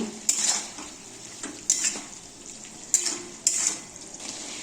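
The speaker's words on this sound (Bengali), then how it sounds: "দিয়ে দিচ্ছি চেরা কাঁচা লঙ্কা চিনি তারপরে একটু নেড়ে ছেড়ে নিচ্ছি" Vegetables being stirred in a pan with slit green chilies and sugar, giving a few sharp metallic scrapes and clinks of the utensil against the pan over a soft background sizzle.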